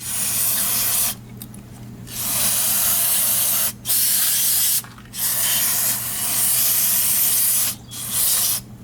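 Carb cleaner is sprayed onto a Corvair carburetor in loud, close aerosol bursts, four long hissing blasts broken by short pauses, with no talking.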